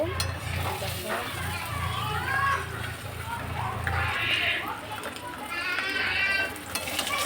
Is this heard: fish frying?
yes